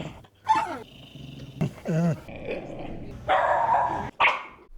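A dog barks and yips in several short bursts with varied pitch, close and fairly loud, some calls rising into whine-like tones with pauses between them.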